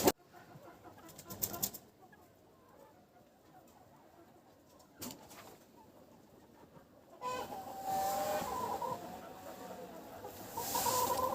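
Chickens and chicks cluck and cheep near a small greenhouse at sunset, quiet scattered calls at first, then a busier, louder cluster of peeping and clucking toward the end.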